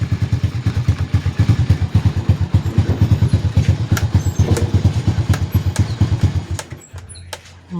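A Rusi Swish motorcycle engine chugs unevenly close by, a rhythmic thumping putter with rattly clatter that sputters and dies out near the end.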